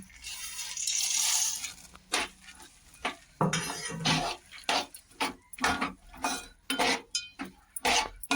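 Peanuts tossed into cooked jaggery in a pan for chikki, giving a run of sharp scraping and clinking strokes of a spoon against the pan in steady rhythm, close and fairly loud, after an opening stretch of soft hiss.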